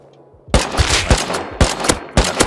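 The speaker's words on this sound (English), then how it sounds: "they're shooting at me" Rapid automatic gunfire in a multiplayer shooter video game, close and loud, several quick bursts of shots following one another over a couple of seconds.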